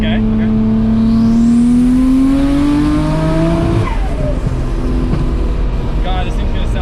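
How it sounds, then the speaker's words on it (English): A Nissan R34 GTR fitted with titanium intakes pulls at full throttle in third gear. The engine note rises loudly and steadily, then breaks off sharply into a shift before the revs fall back. Voices can be heard inside the cabin. "I'm gonna try flooring it in third"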